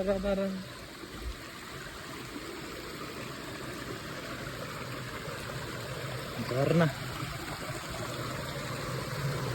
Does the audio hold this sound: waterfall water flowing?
yes